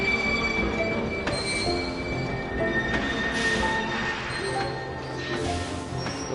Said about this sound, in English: this is the Phantom Train from the simulation